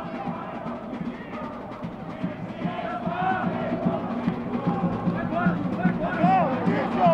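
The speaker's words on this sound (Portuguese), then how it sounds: "A torcida do Comercial segue cantando muito." Comercial supporters chant and sing together in the stands at a Campeonato Sul-Mato-Grossense football match, a broad, echoing crowd roar that swells toward the end, with a commentator talking over it.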